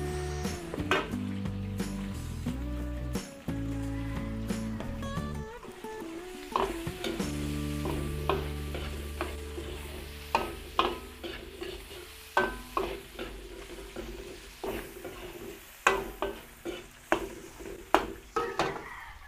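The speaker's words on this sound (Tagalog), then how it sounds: "Luto-lutuin natin yung bawang. Sibuyas." Garlic and onion sautéing in a pan for a Filipino dish, a low steady sizzle under sharp, repeated clinks and scrapes of a utensil stirring against the pan, growing busier and more rhythmic toward the end, with no talking.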